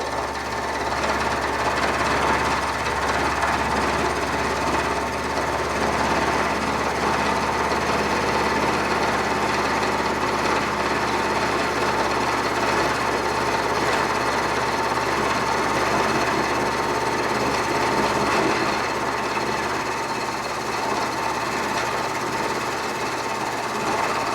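A dull milling cutter takes a conventional cut on a steel flywheel truing tool for a Milwaukee-Eight, Evo and Twin Cam crankshaft, a loud continuous grinding chatter with a steady machine drone, unbroken and alone.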